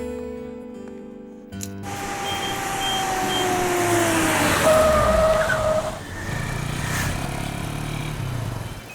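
A new car pulls away and skids, its engine rising and falling as tires squeal in sweeping tones, loud and close at first and then fading slightly.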